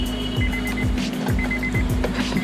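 Portable tire inflator pump running steadily, a constant motor drone with a rhythmic pumping pulse and intermittent electronic beeps, loud and close with no talking.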